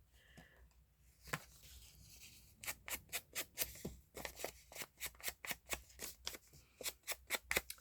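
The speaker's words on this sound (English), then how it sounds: "Fold it in half." Paper crinkles and creases as a sheet is folded in half to make a junk journal pocket, a quick run of close, crisp rustling strokes repeating in a steady rhythm.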